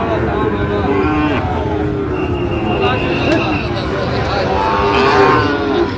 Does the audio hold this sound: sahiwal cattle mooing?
yes